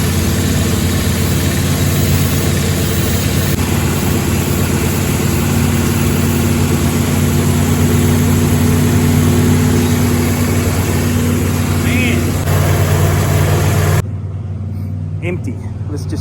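A 1957 car with an upgraded carburetor, being checked for an air leak, idles steadily as a loud, close, rumbling engine drone that stays even for about fourteen seconds before dropping off near the end.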